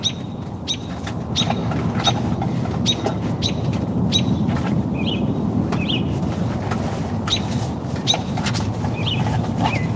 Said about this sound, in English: That bird act like I'm near his nest.